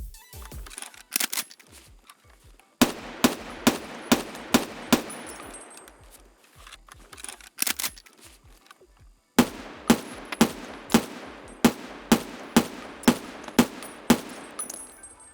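Scar L 5.56 rifle fire from Escape from Tarkov rings out in two bursts of about a half-dozen evenly spaced shots each, crisp and moderately loud, with quiet gaps and faint clicks between.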